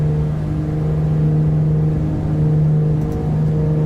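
Turbine engines spool up for takeoff in a flight simulator game, a loud steady hum with a strong low tone that holds continuously, with no voices.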